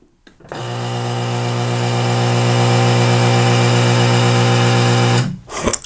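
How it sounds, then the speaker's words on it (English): A motorized ball valve wired to a relay opens with a steady, loud electric motor whine lasting about five seconds, then cuts off abruptly. "You heard the valve open"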